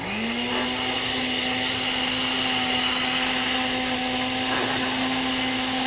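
A steady, loud motor whir with a constant hum runs without pause as a food processor blends garlic and fresh oregano.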